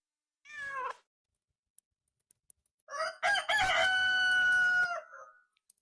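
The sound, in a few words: cat meowing and rooster crowing sound effects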